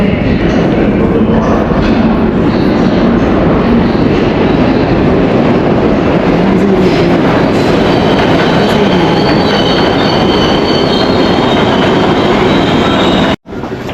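A New York City subway train thunders in loud and close, a steady heavy rumble with metallic wheel squeal throughout, cutting out abruptly near the end.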